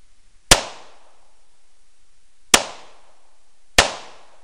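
Three sharp, loud gunshots fired outdoors by a river, spaced irregularly with brief decaying echoes and quiet between them, no talk.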